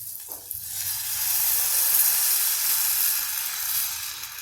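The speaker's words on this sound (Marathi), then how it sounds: "गॅस मोठा करून याच्यामध्ये आपण पाणी टाकणार आहोत" Water poured into hot oil tempered with curry leaves on a high gas flame erupts into a loud, steady sizzle and hiss that swells after the first half second and holds strong throughout, with no talking.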